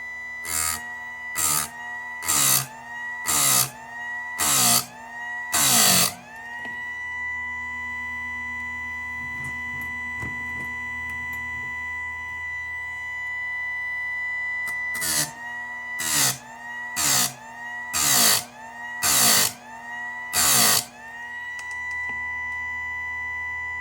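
A Harbor Freight chainsaw sharpener grinds chain teeth: the motor's steady whining hum runs throughout, broken by two runs of short, sharp grinding bursts, about five or six each, separated by a long stretch of plain motor whine.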